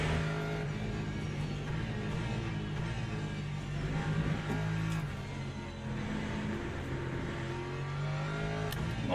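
Le Mans Ultimate racing game with hypercars: engine drones at steady pitches with rises and falls under acceleration, car noise continuous at moderate level with no voices.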